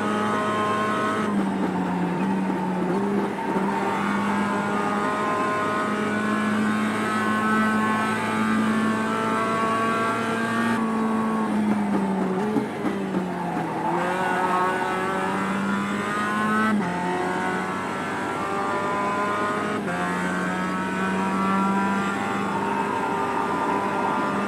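Mazda MX-5 Cup race cars lapping Road Atlanta in the iRacing sim, a steady loud engine drone with shifting revs and gear changes, several cars blending together with no talk over it.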